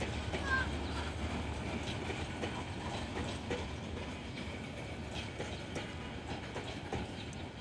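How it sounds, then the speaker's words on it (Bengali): The Titash commuter, a local passenger train running from Dhaka to Narsingdi, produces a continuous rumble with clickety-clack wheel noise at a constant level, heard from close by. "তিতাস কমিউটার মূলত এটি একটি লোকাল ট্রেন।"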